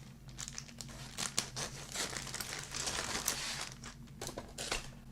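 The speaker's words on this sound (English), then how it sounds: "oh, this plastic doesn't like to be cut" Plastic packaging crinkles and crackles close by in irregular bursts, with sharp snipping and rustling as it is cut and handled, opening a Hasegawa 1/48 scale Kyushu J7W1 Shinden model kit.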